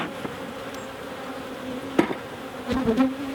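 Honeybees hum and drone continuously around a hive, with a few wooden knocks and thuds of equipment being handled up close.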